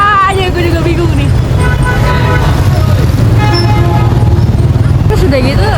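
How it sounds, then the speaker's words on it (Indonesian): Long, angry car horns honk in busy Vietnamese street traffic, several blasts at the start, middle and end over a rumbling roadway, while people talk nearby. "Nah ini tuh klakson marah-marah semua, kayak klakson panjang"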